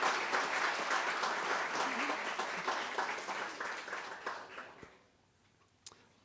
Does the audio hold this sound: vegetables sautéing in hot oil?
no